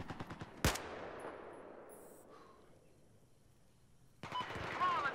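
Gunfire in a first-person shooter video game: a loud sharp shot near the start, a decaying tail, then a dense burst of rapid shots at the end, with voices talking between.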